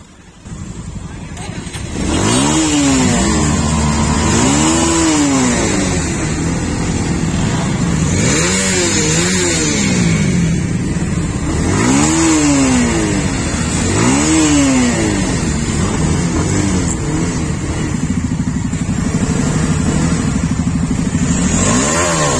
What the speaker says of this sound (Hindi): और ये आप बाइक की आवाज़ सुनो।